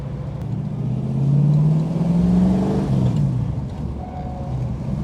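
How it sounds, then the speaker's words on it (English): A 1965 Ford Mustang V8 convertible with a manual gearbox hums steadily from inside the cabin, its engine note rising and falling through a smooth gear change before settling into a lower, even drone in top gear. "Nice easy gear change. And now we're in top gear."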